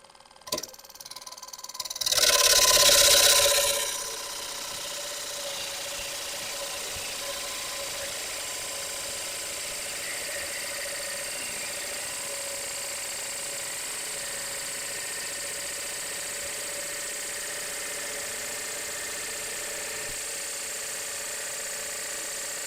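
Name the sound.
wood lathe turning a bowl at 1100 RPM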